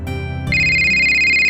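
A phone ringing nearby: a bright electronic ringtone of sustained tones that switches pitch partway through and holds loudly until it stops near the end, with no talking.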